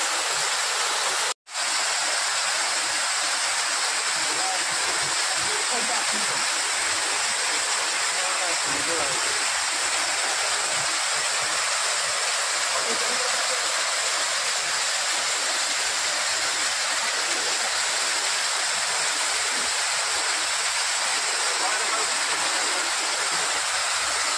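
Steady, dense roar of the Pradhanpat waterfall in Deogarh fills the whole clip, broad and hissing, with one brief dropout near the start and faint voices underneath.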